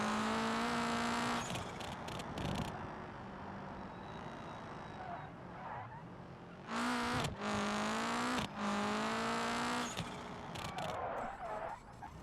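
A car engine in the BeamNG racing game starts and cuts out over and over, a loud steady droning tone that abruptly drops and surges back several times.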